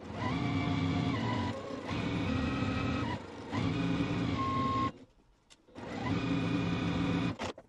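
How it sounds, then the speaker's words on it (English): A sewing machine stitches quilt block rectangles together in long, steady motorized runs with brief dips between them and a short stop near the end before it resumes, and no voices are heard. "All we're going to do is just sew them together"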